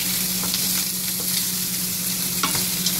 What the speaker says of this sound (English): We're just going to let these fry for about 2 minutes.